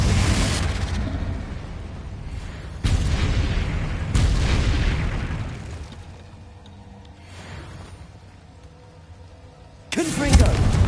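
Confringo explosive spell cast in the video game Hogwarts Legacy: several loud booming blasts ring out in sequence, each with a rumbling tail and bursts of debris, while a voice speaks over part of the fighting.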